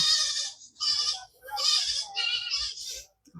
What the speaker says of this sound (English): You always see goats, little goats and baby goats.